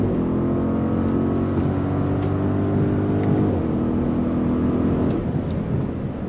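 A 2025 Audi SQ7 performance SUV accelerates on throttle, its engine holding a steady, loud drone that shifts pitch briefly midway, heard from inside the cabin without talk.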